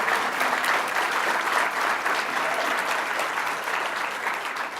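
A crowd at an institutional event gives sustained, dense applause, steady and fairly loud throughout with no gaps and no voices.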